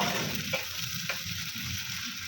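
Ginger garlic paste fries in a pan with a steady close-up sizzle, while a spoon scrapes through it in a couple of short strokes.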